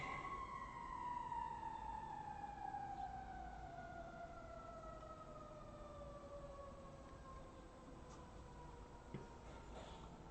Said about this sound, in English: Sounds like a fire truck to me.